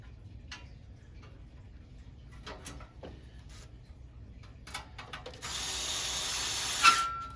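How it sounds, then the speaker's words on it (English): Scattered light ticks and clicks, then a loud, steady power drill whir for about a second and a half near the end as it drives screws into an arcade cabinet. "Might have to use a different drill. This one might not be powerful enough."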